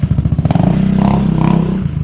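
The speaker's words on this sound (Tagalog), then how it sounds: "Ito yung motor ni Buddy Alex." A motorcycle engine idles close by, a steady throbbing rumble with rhythmic pulses that swell slightly, heard on its own without talk.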